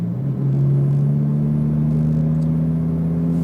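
Lamborghini STO engine holding a loud, steady drone at close range on a racetrack, its pitch creeping slowly upward under throttle with no voices over it.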